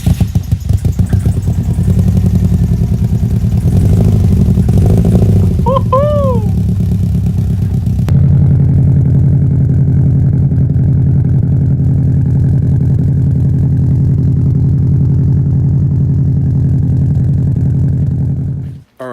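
A 2002 Subaru WRX with an Invidia cat-back exhaust idles with a deep, throaty burble, loud and close, with a brief rev and some clatter early before settling into a steady rumble.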